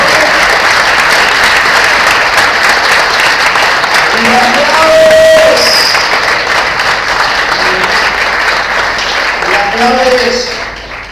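A church congregation applauds loudly and steadily for about ten seconds during a sermon, the dense clapping fading near the end while a preacher's voice carries over it.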